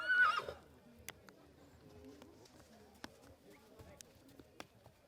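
Friesian horse whinnying at a horse show, a single loud neigh at the start followed by faint hoof clicks and distant crowd murmur, with people talking.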